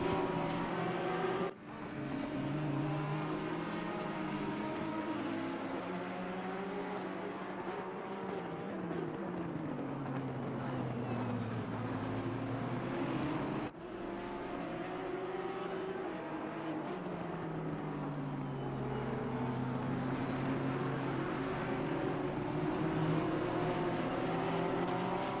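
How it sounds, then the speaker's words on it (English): Porsche race cars at the Barcelona 12 Hours endurance race, with engine tones droning and shifting pitch as they run past, two abrupt gear-change cuts, and a dense, steady roar throughout. "Penzis now having to feel pressure from not just one Porsche, but two."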